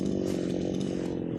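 A chainsaw cuts through wooden blocks, its engine droning steadily and close at full throttle with no pauses and no talk over it.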